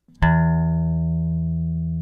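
A single plucked bass guitar note through a blended amp and DI signal, with a sharp pick attack, ringing out warm and full with a long, steady sustain, close and loud.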